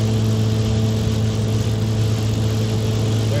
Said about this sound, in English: Now we gotta listen to loud exhaust the rest of the day.